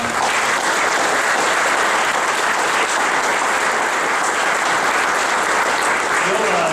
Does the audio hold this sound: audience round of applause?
yes